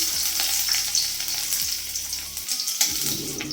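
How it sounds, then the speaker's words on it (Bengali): Ten cloves of crushed garlic hit hot oil with chilli for fried water spinach (kalmi shak), giving a steady close sizzle with crackling bursts and a few stirring clatters. "আমি দশ কোয়া রসুনকে থেতো করে নিয়েছি তো এই রসুনগুলো এখানে দিয়ে দেবো"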